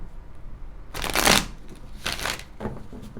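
Tarot cards are shuffled in two crisp riffling bursts, loud and close, with a brief softer flick after each.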